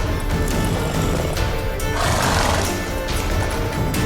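A horse in The Witcher 3 whinnies amid loud, dense game noise with clattering hooves and crashing effects, the neigh rising partway through the stretch.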